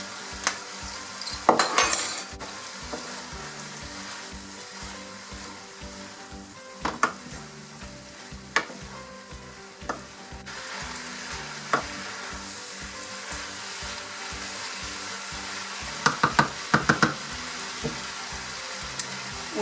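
Stir-fry noodles with soy sauce sizzling steadily in a hot pan, close and continuous, with occasional clinks of a utensil against the pan as they are stirred.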